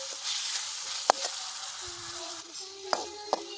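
A ground paste of cumin, garlic, chilli and coriander fries in hot oil for horse gram soup, giving a steady sizzle punctuated by a few sharp spitting pops.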